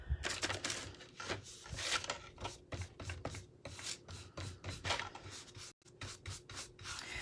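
Painted wooden decor is sanded by hand in quick back-and-forth rasping strokes, a close scratchy rhythm that pauses briefly once and resumes.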